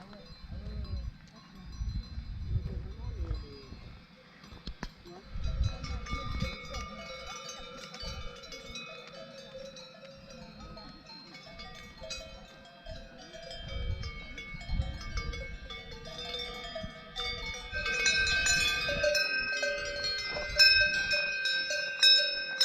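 Bells on grazing cows in an alpine meadow on the Tour du Mont Blanc clank and jingle irregularly, close and fairly quiet, with rustling and brief movement noises between them.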